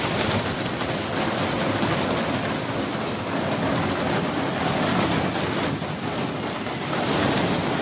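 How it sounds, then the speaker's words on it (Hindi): Dense, steady rain drums on a shed roof, a broad hissing patter that holds constant and fairly loud throughout with no voices. "यहाँ हमारे शेड पे भी बारिश पड़ रही है, जिससे खूब शोर हो रहा है इस तरह"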